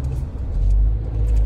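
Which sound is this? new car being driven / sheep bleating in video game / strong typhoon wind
new car being driven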